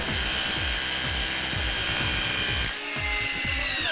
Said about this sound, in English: loudly screws in the pleats so we can measure the feature